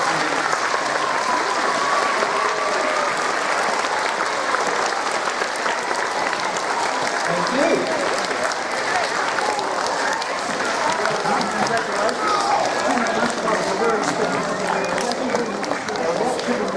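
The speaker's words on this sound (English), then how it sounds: "let's give it a polite round of applause" Schoolchildren at an award assembly applaud steadily for the whole stretch, a dense wash of many small hands clapping with a faint murmur of voices underneath.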